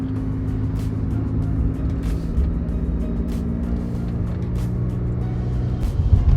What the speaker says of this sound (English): I'm gonna go take it for a drive right now.